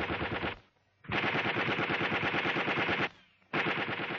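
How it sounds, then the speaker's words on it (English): Enemy machine guns firing during a platoon attack, long loud sustained bursts of rapid automatic fire broken by two short pauses, close and continuous. "The enemy now have the area under close observation and are firing at anything that moves."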